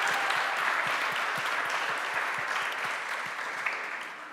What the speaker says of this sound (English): then an applause, please